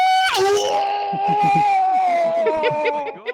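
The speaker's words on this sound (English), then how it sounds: "That was one of those screams that had all the drama just built in." A person screams loudly and dramatically while playing a VR game show, one long wailing cry that breaks into sobbing, moaning gasps, close to the microphone.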